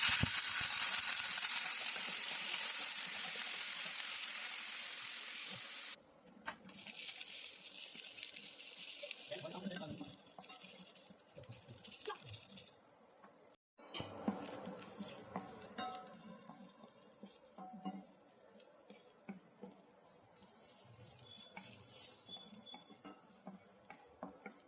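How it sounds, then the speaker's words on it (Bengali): Sliced onions frying in oil for birista in a home kitchen, a loud steady sizzle at first that drops away and gives way to quieter intermittent stirring and scraping. "বেরেস্তার জন্য কিছু পরিমাণ পেঁয়াজ ভেজে তুলে রেখে দেবো"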